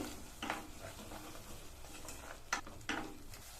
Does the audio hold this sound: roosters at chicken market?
no